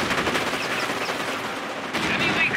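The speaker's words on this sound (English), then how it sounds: "Base is under enemy fire" Dense battlefield gunfire from Company of Heroes: Tales of Valor at the Falaise Pocket near Trun, with rapid overlapping machine-gun bursts and rifle shots crackling steadily throughout, mixed with faint voice lines.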